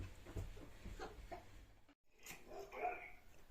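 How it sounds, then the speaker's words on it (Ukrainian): A pet dog named Aichka barks a few times at home, brief yelps in the second half mixed with household noise and nearby speech. "Айчка лає, хороший собачка"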